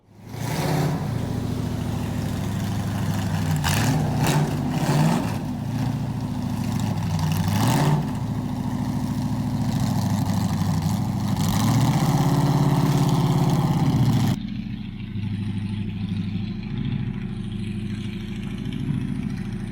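A race car engine idling and blipping as it comes out of a trailer, a loud close rumbling idle with several revs and surges before dropping to a lower, steadier idle.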